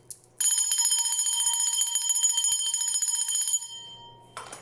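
A small bell rings in a rapid, continuous metallic trill for several seconds, bright and close, then stops with one faint strike afterward, with no talking.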